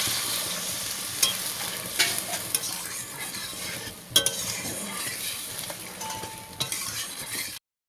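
Meat and potato curry sizzles in a pot as water goes in, with a steady fry, occasional metallic clinks of a stirring spoon, and a sudden cut to silence at the end.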